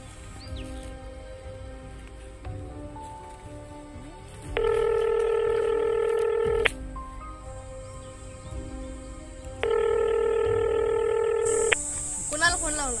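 A telephone being dialed, with short keypad tones followed by two long, steady electronic ringing tones, each lasting about two seconds. The sounds are fairly clear, with faint background noise between them.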